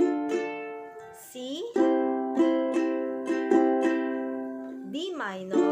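Ukulele strumming minor chords in a down-down-up-up-down-up pattern, each stroke a clear bright attack ringing on, played close and alone with a chord change near the end.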